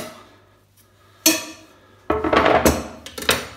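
Ingredients are stirred in a salad bowl, with a few sharp clinks and scrapes of a utensil against the bowl, one isolated knock followed by a busier burst of clattering, close and fairly loud.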